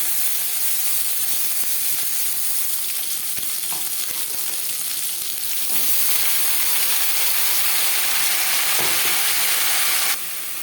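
Kakrol (bitter gourd) fries in hot refined oil with dried red chilli and whole cumin, a loud, steady, close sizzle with a few scraping stirs, swelling briefly louder partway through.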